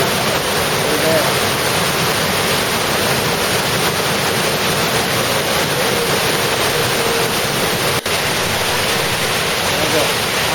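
Water rushes steadily through the smooth rock narrows of a gorge in Switzerland, a loud, unbroken roar that fills the whole stretch without pause.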